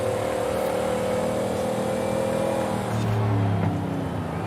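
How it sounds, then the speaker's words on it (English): A 1969 Dodge Charger Daytona's V8 engine drones loudly nearby, its deep tone climbing and shifting as it revs, with no talk over it. "The thing about a V8, man, not only do they sound good, but they deliver good power."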